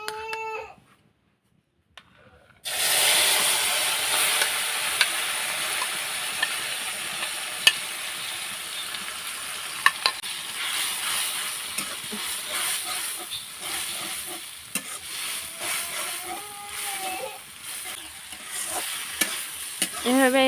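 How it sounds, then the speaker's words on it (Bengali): Potato and egg mixture frying in hot oil in a wok makes a loud, steady sizzle that bursts in after a brief quiet start and keeps crackling evenly for the rest of the clip, with no voices. "এখন আমি আলু আর ডিমটা দিয়ে দিলাম।"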